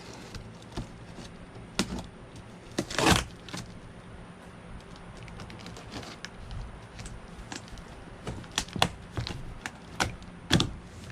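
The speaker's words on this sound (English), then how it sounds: "make sure my blade is not very deep, just enough to cut the tape" A blade slices through packing tape on the box of a C.C. Rider Low Rider gel seat for a Harley-Davidson, heard as scattered sharp clicks and short scraping rips over a low steady background hum.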